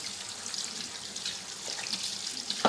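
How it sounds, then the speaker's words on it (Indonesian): Water pours from a faucet as hands are rinsed beneath it, a steady splashing stream with a brief louder splash near the end. "dan bilas dengan air mengalir."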